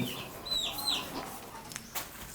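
Hens cluck softly in a poultry shed among chicks and laying birds, a few short calls over steady background noise and faint rustling.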